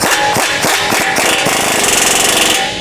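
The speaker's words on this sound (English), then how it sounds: "we're just going to go up over this cross member and get on that nut and just tighten until it tightens itself up" A rapid hammering rattle of a power socket wrench tightening a nut on a Jeep Wrangler JK front bumper cross member, loud and close, with a burst of quick impacts that blur into a continuous buzz.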